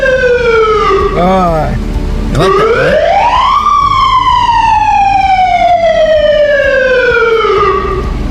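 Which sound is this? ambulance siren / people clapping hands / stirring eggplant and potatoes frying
ambulance siren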